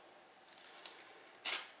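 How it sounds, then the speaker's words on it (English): Tamiya masking tape is peeled off a painted Dodge 330 scale model, making quiet crisp rasps in short bursts and then a louder, sharper rip near the end, with no talking. "I'm going to peel off this Tamiya tape."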